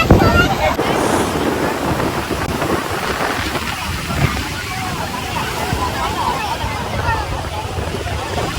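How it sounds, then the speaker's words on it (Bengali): Big sea waves roll and crash at New Digha beach during high tide, with a continuous close roar of surf, wind buffeting the microphone and people talking over it. "দেখো ঢেউ, দেখো প্রচুর বড় বড় ঢেউ রয়েছে"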